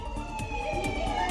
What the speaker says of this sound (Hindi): चारों तरफ सायरन की आवाज सुनाई दे रही है